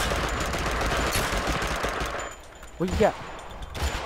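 Rapid automatic gunfire rattles in the PUBG battle royale game for about two seconds and then drops off, after which a man cries out in Thai and a couple of further shots follow.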